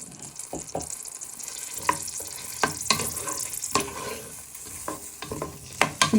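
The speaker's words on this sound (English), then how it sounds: "you just get a wooden spoon and you just want to stir these till they go nice and soft." A wooden spoon stirs onion and garlic frying in a pan, giving steady sizzling with repeated scraping knocks, close and fairly loud, and no talk.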